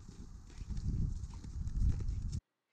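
A Rocky Mountain horse walks out of a stock trailer, its hooves clomping and thudding on the hollow metal floor in an uneven walking rhythm, close and full, before the sound cuts off abruptly, with no talk.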